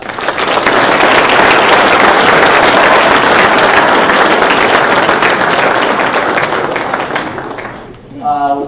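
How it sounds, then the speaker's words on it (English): Loud, sustained crowd applause at a 2012 junior golf banquet, an even wash of many hands clapping that holds for several seconds and then fades out. "Please, let's give them a round of applause."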